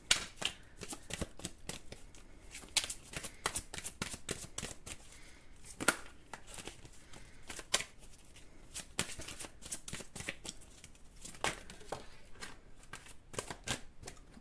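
Tarot cards shuffled and drawn one by one during a reading, a steady run of soft riffling flicks and sharp card snaps close by, with no talk over it.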